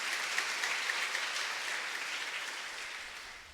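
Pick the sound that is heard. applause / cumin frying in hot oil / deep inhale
applause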